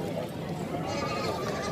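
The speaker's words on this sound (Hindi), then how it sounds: "ये 2 बच्चों वाली बकरी है माशाल्लाह" A goat with two kids at a livestock market bleats in a brief, wavering call, close and clear over a noisy crowd.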